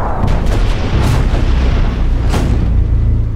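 Heavy artillery and rocket bombardment from some 1,900 guns during the December 1944 Ardennes offensive rumbles as continuous deep booms and overlapping blasts, loud and close, with no voices.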